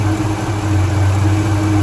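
A Holden HJ ute engine idles slowly at close range, with a steady low rumble and a soft mechanical fuel pump hum. No one speaks over it.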